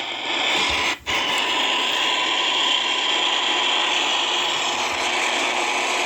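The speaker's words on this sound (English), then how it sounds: "So you're hearing my computer right now" A running computer gives off a loud, steady mechanical whir with a faint rattling texture. The noise dips sharply for a moment near the start, then drones on unchanged.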